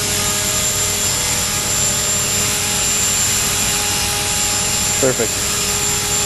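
A TREX 450 indoor RC helicopter hovers nearby with a steady, loud rotor and motor whine carrying tonal lines throughout, while a person speaks briefly over it.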